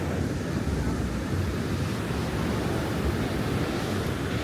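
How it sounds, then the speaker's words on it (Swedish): Steady wind and surf on a beach, a continuous broadband roar of waves and gusts buffeting the microphone, with no voices. "Det blåser lite grann och det är lite vågigt."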